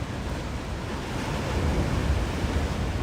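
Steady ocean surf rushing and washing at Avoca Beach in the early morning, a broad continuous roar that swells slightly louder midway, with no voices.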